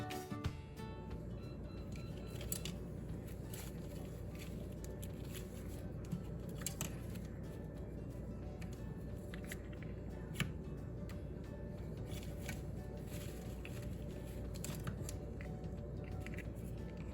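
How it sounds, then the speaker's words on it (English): Bamboo skewers are snipped with a cheap garden trimmer, giving a series of faint, sharp clicks spaced irregularly over a quiet room background, with no one speaking. "I'm going to snip my bamboo skewers with a DollarTree garden trimmer"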